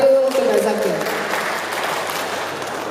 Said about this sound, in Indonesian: Beri aplaus Bapak Ibu untuk Bapak Zaki.